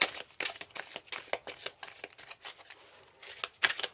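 Tarot cards handled and drawn from a deck during a love reading, a run of quick papery shuffling flicks and slides, close and fairly soft, with no voices.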